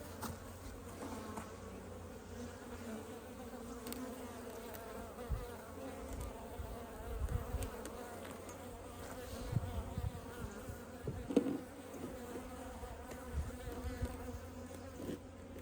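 Steady, dense buzzing of many honeybees around an open hive close by, a continuous hum with occasional louder passes near the microphone.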